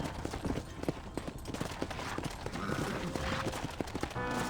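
Horse hooves clip-clop in a steady gallop across ground in the Western video game Red Dead Redemption, the rhythm running under a dense game soundscape.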